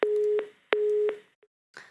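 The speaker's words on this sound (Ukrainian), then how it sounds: "Сорвался телефонный звонок." A telephone busy tone after a call drops, two clear beeps of equal length in quick succession, then a faint click and a short crackle of line noise.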